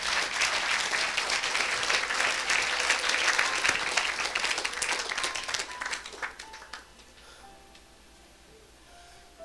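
A church congregation at a Sunday worship service bursts into loud, sustained applause and cheering, which thins out and fades to quiet near the end.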